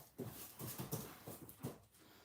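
A dog whimpering and panting close by indoors, a string of short, soft whines and breathy pants in an uneven rhythm, with no talk over it.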